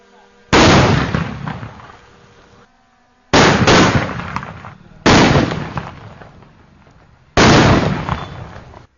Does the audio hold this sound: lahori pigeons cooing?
no